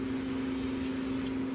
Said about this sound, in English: spray it off with a little bit of